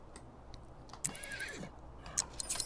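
A horse whinnies in The Sims 3 Generations at a beach setting, a clear rising and falling neigh near the middle, with a few light clip-clop ticks and faint game ambience around it.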